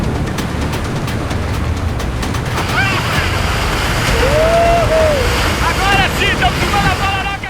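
Tidal bore wave of the Amazon river, the Pororoca, surfed on board: a steady, loud roar of rushing water and surf continues throughout, with wind buffeting the microphone and faint voices or calls rising above it.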